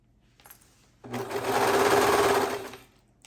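A serger sewing machine stitches a shirt in a single close, steady whirring run of about two seconds that speeds up, holds and then slows to a stop after a brief faint handling noise.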